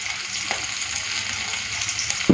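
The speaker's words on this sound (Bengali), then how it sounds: "তেলটা গরম হয়ে গেছে, দিয়ে দিচ্ছি পেঁয়াজ আর কাঁচা লঙ্কা।" Onion and green chili hit hot oil with panch phoron, producing a steady, close sizzle and a short louder crackle at the very end.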